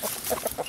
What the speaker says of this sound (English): My bantam hens fly out, so it's time to catch them and clip their wings.